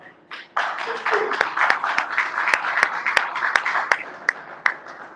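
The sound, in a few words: audience applause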